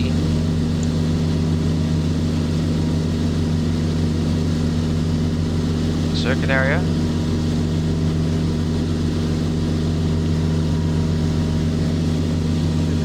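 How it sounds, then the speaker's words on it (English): A propeller airplane engine in a flight simulator game drones loudly and steadily with a constant tonal hum, while a voice briefly speaks over it partway through. "God, that plane, this plane's loud."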